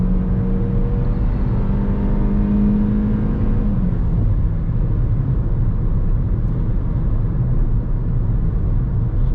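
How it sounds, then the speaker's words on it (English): Hyundai i30 with a 1.5-litre 105 hp engine accelerating hard, a loud strained engine drone with rising whine over heavy road and tyre rumble, heard from inside the cabin. "Right, put our foot down to see what the pickup's like."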